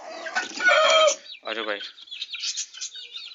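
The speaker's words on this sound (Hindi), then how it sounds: "और ये देखें हमारी सारी मुर्गियाँ बाहर आ गई हैं" Chickens cluck and chatter close by after being let out into the yard, a busy stream of short calls, with a man's brief spoken words near the start.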